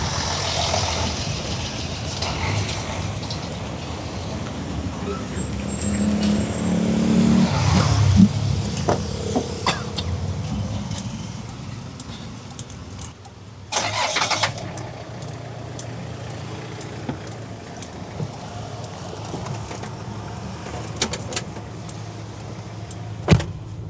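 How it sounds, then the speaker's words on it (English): Toyota Land Cruiser LC2 short-wheelbase, freshly rebuilt, heard from inside as the engine turns over and settles into a steady drive, with a rising rumble, clicks and a brief motor whir over a constant road hum. "Let's go for a ride in the car."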